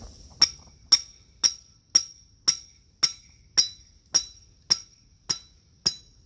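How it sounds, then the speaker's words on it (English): A small hammer taps a metal beaver trap about a dozen times at an even, unhurried pace, each close, sharp metallic clink ringing briefly before the next, in an otherwise quiet setting. "take a little hammer"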